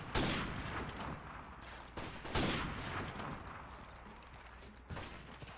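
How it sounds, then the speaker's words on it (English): Gunfire in a video game, loud close bursts of rapid shots in several volleys over a steady background noise, with no talk. "I got shot by a pistol."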